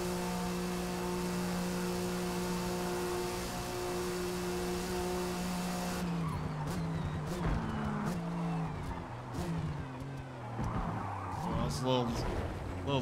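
A Porsche 935 race car in a racing game, heard first as a steady engine drone, then shifting into squealing tires, revving and rattling as it takes a corner, while a voice comments over it.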